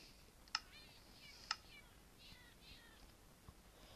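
Cat meowing in the video game Minecraft, two short faint mews about a second apart over a quiet hiss, with softer chirpy sounds after.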